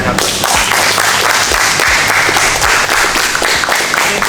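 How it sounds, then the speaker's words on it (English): Loud, dense applause from a crowd at a wrestling and Brazilian jiu-jitsu grappling seminar for Brandon, steady and sustained with a few heavier thumps mixed into the clapping. "applause to Brandon right now."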